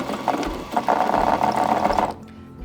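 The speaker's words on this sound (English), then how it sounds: "go ahead and continue winding the bobbin" A Pfaff computerized sewing machine whirs steadily as it winds a bobbin. The motor drone is close and continuous for about two seconds, then cuts off and leaves a quiet room hum.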